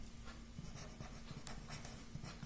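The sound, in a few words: writing on a board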